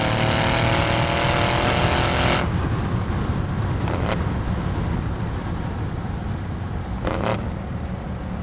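A 700-horsepower tuned Mercedes CLS63 AMG with an automatic gearbox in Sport Plus kicks down three gears from 1,000 rpm and accelerates hard, giving a loud, rough engine roar that settles into a steady, dense rumble with road noise.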